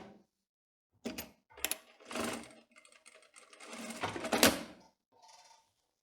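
A sewing machine stitches the belt loop onto a tailored skirt with a waistband, running in several short bursts separated by pauses. It is close and clear, with no talking.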